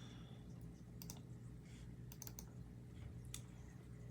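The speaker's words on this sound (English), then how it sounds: "I have to look at my keyboard" Someone types on a computer keyboard while working in a spreadsheet, a faint scattering of light key clicks over a quiet room hum.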